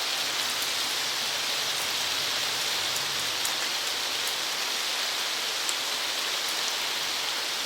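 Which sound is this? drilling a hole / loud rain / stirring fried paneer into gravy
loud rain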